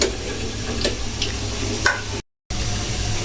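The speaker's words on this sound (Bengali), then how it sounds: "এই যে এখনের জন্য ফুপু কয়েকটা ভাজতেছে, এগুলো ভাজা হয়েছে।" Homemade samosas deep-frying in oil, a steady close sizzle with a few faint clinks, broken by a brief silent gap before the crackle resumes, no voices.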